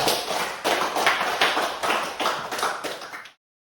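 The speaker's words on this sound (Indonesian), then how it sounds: "Tepuk tangan buat kalian" Primary-school students clapping in a classroom: a burst of small hands in a quick, uneven, rhythmic patter of about a dozen distinct beats, close and lively, stopping abruptly.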